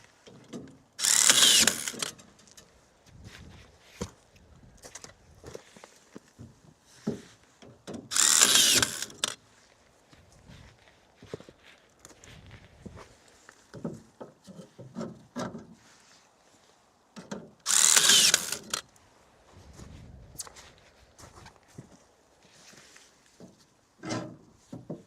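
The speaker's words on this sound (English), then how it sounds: "again the video game tying machine sounds" A rebar tying machine in a construction video game fires three short, loud mechanical whirring bursts at a steady spacing, with quieter clicks and handling noise between them and no voices.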